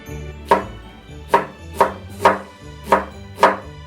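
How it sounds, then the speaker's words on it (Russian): Six knife chops land on a cutting board as an onion is finely diced, at an uneven, unhurried pace, each a crisp close thunk with quiet between them. "И нарезаем максимально мелким кубиком."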